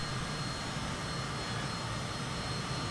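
Steady, loud jet roar from a Lockheed F-117 Nighthawk climbing at speed in the Flight Simulator 2020 video game, a dense unbroken engine rush that fills the whole stretch with no voices.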